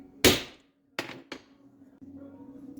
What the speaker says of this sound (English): now we're going to put a little punch here for where we're going to want our key to go